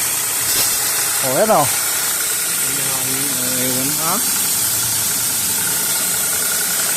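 A sprayer pump motor runs continuously, a steady, loud mechanical drone with a hissing edge that holds unchanged throughout, while someone talks briefly over it nearby.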